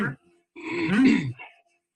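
A man clears his throat once, a close, rough, gravelly grunt lasting under a second, preceded by a brief vocal sound and followed by silence.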